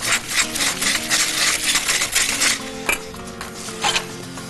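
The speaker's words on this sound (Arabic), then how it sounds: "هرجع تاني واقلب الدقيق بالزبدة" Spoon scraping and stirring flour and butter in a metal pan, repeated rough rasping strokes with occasional clinks, close and fairly loud, with no talking.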